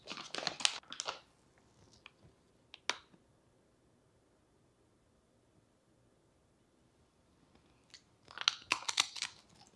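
Crunchy freeze-dried eggplant Italian spicy pizza crunch snack being bitten and chewed, with a few sharp crisp crunches close to the mic at the start, quiet pauses, then another burst of crunching near the end.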